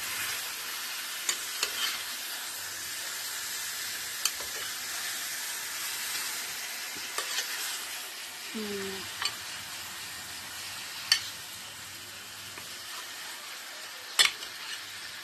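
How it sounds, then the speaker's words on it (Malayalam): Chicken perattu frying in a pan, a low steady sizzle and hiss with sharp scrapes and knocks of a spoon stirring it now and then, close but fairly quiet and with no voice. "നന്നായിട്ട് ഇളക്കി കൊടുക്കണം."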